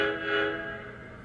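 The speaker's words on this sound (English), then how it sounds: "SRS means a backup whistle," Whistle of a Proto Sound 2 model train locomotive sounding its backup signal, a sustained near whistle tone that swells briefly and fades, with no clear separation into distinct short blasts.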